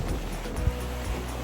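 Waves lapping against the jetty at Wellamankaraya fishery harbour, a continuous low wash with wind noise and one soft thud of water partway through.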